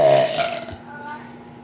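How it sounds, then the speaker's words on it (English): A single long, loud burp in a burping contest, strongest at the start and then trailing off into a rougher, fading tail. "That was the longest burp."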